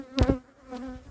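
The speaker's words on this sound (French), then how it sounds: "Un frelon qui tourne autour, là." A hornet buzzes close around a beekeeper at an apiary, a steady droning hum that swells sharply as it passes near, then fades and returns.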